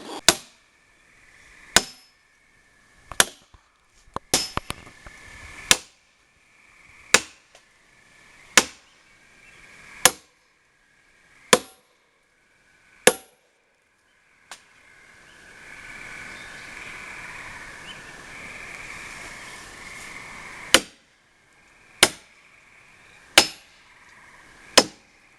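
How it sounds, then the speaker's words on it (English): A dozen or so sharp, ringing metal strikes at steady intervals, loud and close, as a splitting maul drives nails into a log, with a stretch of hissing noise between the later blows. "I pre-drill them in about 4 inches and drive them home with a splitting maul."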